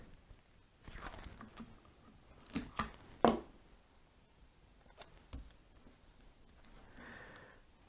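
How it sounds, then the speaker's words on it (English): A strip of Scotch 811 tape is torn off the roll by hand: a few short, close, crisp ripping bursts in an otherwise quiet room. "So I'll just rip off a piece."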